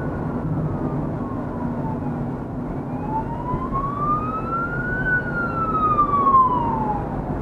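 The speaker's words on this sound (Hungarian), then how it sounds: "Már jó előre lehet hallani, hogy jön valami Nino Nino, konkrétan egy mentő ment el" An ambulance siren passes on the road, heard from inside a moving car. Its wail rises and falls, swelling as it nears, over a steady low road rumble.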